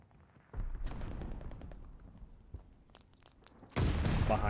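A machine pistol fires in a Call of Duty Vanguard first-person shooter match, with a rattling burst near the start and a louder burst at the end, among softer combat noise.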